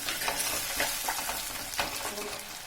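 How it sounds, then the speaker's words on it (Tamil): Onions and tomatoes sauté in a pan for a village-style dry fish gravy, with a steady close sizzle and occasional stirring scrapes and no talking. "இதெல்லாம் சேர்த்து நல்லா வதக்கிக்கலாம்."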